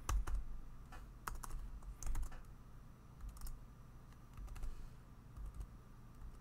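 Steady, fairly quiet typing on a computer keyboard, with irregular bursts of key clicks and a few heavier taps, close to the microphone with no talking.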